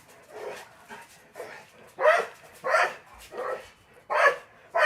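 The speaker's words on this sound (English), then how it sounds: "I'm so sorry for the abrupt barking." A dog barks repeatedly indoors, likely wanting to play or guarding the house as someone walks a dog outside; a steady run of loud, close barks comes in an uneven rhythm with no talk.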